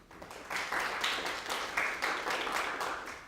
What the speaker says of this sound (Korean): 여러분 이럴 때 박수 한번 쳐주셔야 돼요.